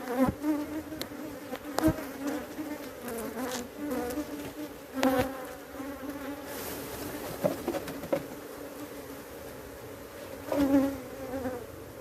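Honey bees drone steadily around their hive, a dense buzzing hum with louder swells as individual bees fly close past, continuing throughout without talk.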